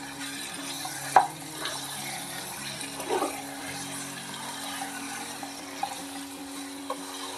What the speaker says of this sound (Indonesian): Kalau sudah seperti ini, teman-teman bisa masukkan dagingnya. Kita aduk dulu sebentar.